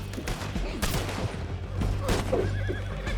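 A horse neighs and whinnies in the Red Dead Redemption 2 video game, set against rattling gunfire and hoof clatter, with a brief faint voice.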